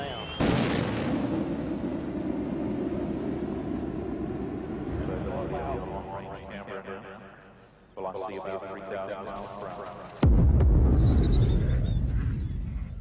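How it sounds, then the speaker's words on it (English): Two heavy booms from a space shuttle breaking the sound barrier on its landing approach: a sharp loud onset near the start, then a second jolting boom about ten seconds later, with continuous rumbling between them. "The shuttle announces its arrival with two sonic booms as the leading edge of the wing and tail break the sound barrier."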